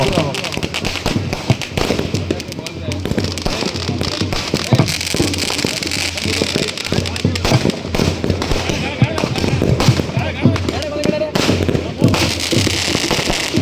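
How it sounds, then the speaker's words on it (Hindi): Dense, continuous crackling and popping of Diwali firecrackers going off in rapid bursts on an outdoor ground, fairly loud, with voices mixed in the background. "दीपावली की रोशनी में पटाखे छोड़ने के लिए एकमात्र स्थान"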